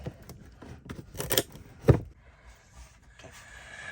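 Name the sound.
box cutter razor knife cutting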